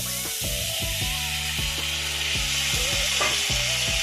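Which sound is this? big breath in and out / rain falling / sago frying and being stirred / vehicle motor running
sago frying and being stirred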